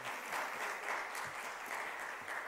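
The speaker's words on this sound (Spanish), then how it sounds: "Un aplauso." An audience at an academic conference applauds with steady, dense clapping that is moderately distant and sustains evenly throughout.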